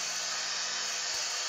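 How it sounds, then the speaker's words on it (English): A vacuum cleaner runs steadily, a loud continuous airy whine with no break, heard alone with no talking. "the vacuum stopped"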